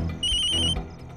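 A telephone rings once, a short bright electronic trill lasting about half a second, close and clear with no talking.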